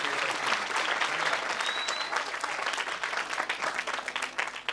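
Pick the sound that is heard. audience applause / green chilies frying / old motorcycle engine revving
audience applause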